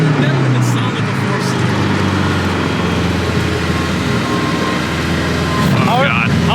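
A K-swapped Chevrolet S10 pickup's four-cylinder engine runs steadily with a loud, even drone heard from close by, as people talk over it.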